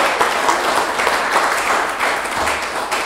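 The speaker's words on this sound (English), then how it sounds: "let's give her a big WMI applause." Audience applause at an outdoor farmers and artisans market, a steady wash of clapping from a small crowd that holds fairly even throughout with no voices over it.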